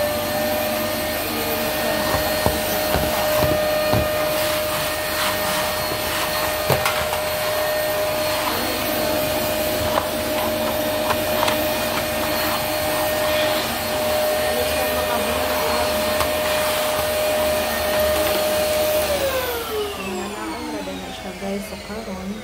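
A vacuum cleaner runs steadily with a loud, constant whine, then winds down near the end as it is switched off.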